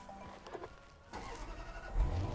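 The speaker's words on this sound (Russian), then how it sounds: "Так, запустим двигатель." A 2019 Range Rover SVAutobiography long-wheelbase with a 5-litre 565 hp engine starting at the push of a button: a soft click, then the engine catches with a low, rising roar that settles into a steady idle.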